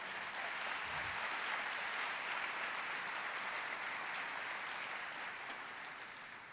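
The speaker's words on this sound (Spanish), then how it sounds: "Vamos, dele fuerte ese aplauso a Dios." Steady, dense applause from a church congregation, loud and sustained throughout, fading slightly toward the end with no talk over it.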